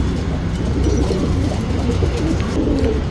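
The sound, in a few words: pigeon cooing, copper-coloured male tournament pigeon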